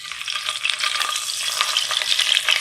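Two teaspoons of butter hit a hot karahi for chicken chana, giving a bright, close, continuous sizzle with crackling spits that swells slightly as it goes.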